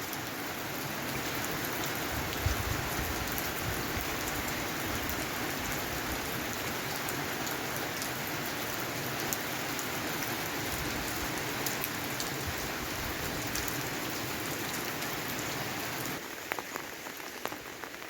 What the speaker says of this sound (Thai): ฝนตกแล้วก็ซุ่มซื่น